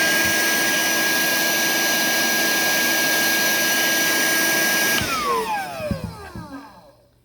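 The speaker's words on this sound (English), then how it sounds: "This is the regular hand vacuum with the brush mounted underneath it." A Ryobi 18V cordless hand vacuum with an underneath brush whines steadily at high pitch, then powers down at the end, the motor tone sliding lower and fading out.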